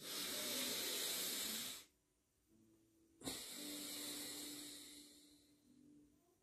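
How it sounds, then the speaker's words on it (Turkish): Deep diaphragm breathing during a guided relaxation exercise: a long loud airy exhale, a short pause, then a strong sharp intake swelling into another sustained breath, close to the microphone. "Şimdi derin bir nefes alıp verin."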